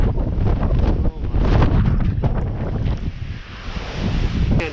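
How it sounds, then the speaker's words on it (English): Strong wind blasts across the microphone on the summit of Mt. Mitchell in winter. It rushes and buffets loudly and continuously, with gusts that roar close to the mic and rumbling low buffeting throughout. "Look at the wind just ripping."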